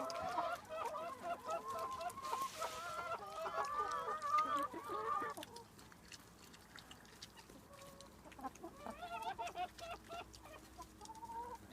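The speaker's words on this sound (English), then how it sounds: "The chickens are right on him." Several chickens cluck busily while pecking at seeds and bread, the chatter loud and close for the first few seconds, then softer, scattered clucks continuing.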